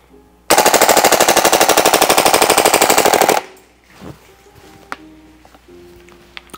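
A Krytac Kriss Vector gas blowback airsoft replica fires one sustained full-auto burst of about three seconds, a fast, loud and evenly spaced stream of sharp cracks, followed by faint handling noises.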